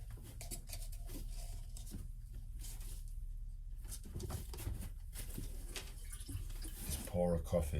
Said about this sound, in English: pour a coffee.